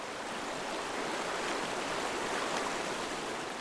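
An icy winter stream where a white-throated dipper forages, rushing in a steady, dense, close wash of water with no breaks or other sounds.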